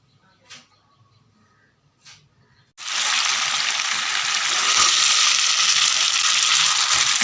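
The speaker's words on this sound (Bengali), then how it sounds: "মাংস রান্না হচ্ছে।" Meat frying in a pan in a home kitchen, a steady loud broadband sizzle that starts abruptly after a couple of soft knocks and then holds evenly to the end.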